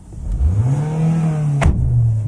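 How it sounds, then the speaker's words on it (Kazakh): A 2019 Korean car's engine runs close by, rising into a steady rev and holding a smooth drone with a brief clatter near the end. "Мотор жақсы жұмыс істеп тұр."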